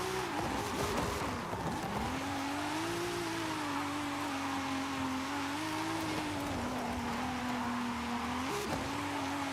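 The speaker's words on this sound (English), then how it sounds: "all I want to do is floor my Supra and go fast sideways" Engine of a Toyota Supra in Forza Horizon 5 droning at high revs through a sustained drift, the pitch wavering as the throttle shifts, loud and continuous with tire noise beneath and no talking.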